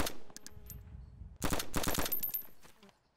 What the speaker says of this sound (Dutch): Oh, nog meer schoten.